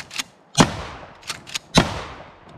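Mossberg Shockwave 590 shotgun firing outdoors at a box target, several sharp loud blasts at uneven intervals with short echoing tails and quieter clacks between them.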